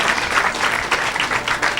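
A church congregation applauding in steady, dense clapping that fills the room, loud and close throughout with no pause.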